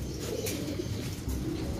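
Racing pigeons are released during training, cooing softly close by over a steady background of low rumble and light wing movement.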